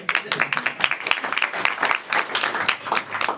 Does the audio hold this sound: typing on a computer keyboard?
no